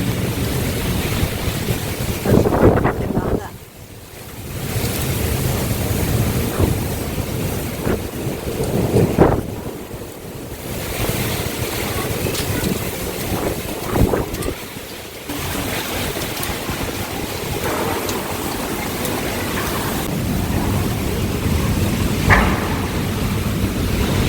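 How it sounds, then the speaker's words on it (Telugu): Heavy wind and rain storm at night, a strong steady roar of gusting wind and rain buffeting the microphone, with surging swells and no thunder clearly standing out. "అలా అనుకోకుండా 8 o'clockకి పెద్ద గాలి వర్షం అయితే వచ్చేసింది."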